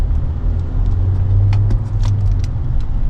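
Hyundai Sonata New Rise sedan rolling over a speed bump during a test drive, a steady low cabin rumble of road and engine noise with faint light rattles and knocks over it, no talk.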